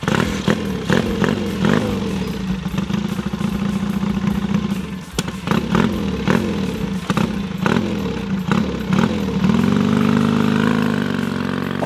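A 1966 Triumph motorcycle engine running, a loud close rhythmic thumping idle with clattering pulses and slight revving, settling into a steadier hum at the end.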